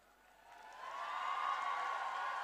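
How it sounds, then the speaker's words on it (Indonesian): Applause at an Indonesian university graduation ceremony rises steadily from quiet to a full, sustained crowd clapping, heard from a distance across a large hall. "Tepuk tangan."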